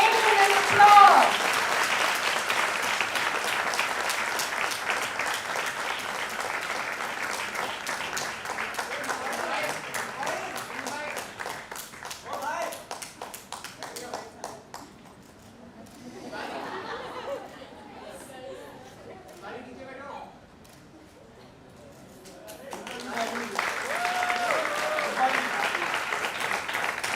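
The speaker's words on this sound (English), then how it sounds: "Please join me in a rousing round of ovation and applause." An audience at a book launch for a Sattvik cookbook applauds, with sustained clapping and crowd chatter that thins out midway, dips nearly quiet, then swells again near the end.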